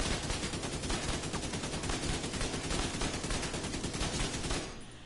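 Rapid automatic fire from an AKM rifle fitted with a strained build in a video game, a dense, steady burst of shots running nearly five seconds before cutting off, loud and continuous with no talking.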